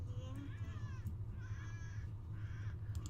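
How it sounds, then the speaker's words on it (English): A bird cries out in The Sims 2, giving three drawn-out, wavering calls one after another over a steady low hum of game ambience, moderately loud and close. "Why is that bird crying?"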